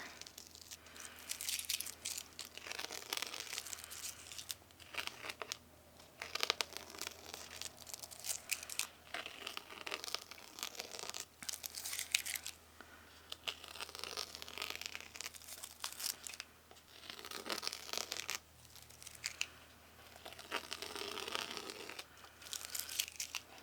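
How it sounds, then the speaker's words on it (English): Repeated ripping and crinkling of tape pulled from watercolor paper, in short bursts with pauses between, close up and fairly quiet. "And this tape is coming off decently."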